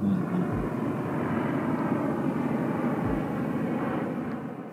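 An electric VTOL air taxi hums steadily overhead at a moderate distance during a transition flight, smooth and continuous with no voices, easing off slightly at the end.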